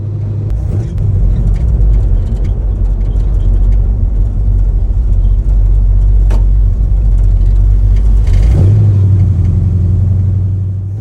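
A car fitted with an Edelbrock carburetor drives along with a steady, loud low engine rumble, and near the end it surges and bogs briefly as it pulls away, hesitating before picking up.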